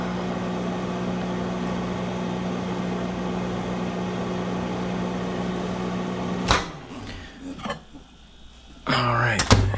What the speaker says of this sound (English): I'm literally gonna nuke it in the microwave for 10 seconds